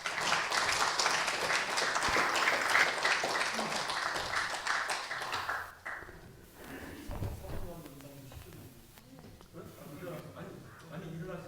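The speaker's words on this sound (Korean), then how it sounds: "큰 박수 부탁드립니다." Audience applause welcoming a lecturer and moderator to the stage at a KIST alumni talk, a dense wash of clapping for about six seconds that fades, then lighter scattered claps and a voice speaking.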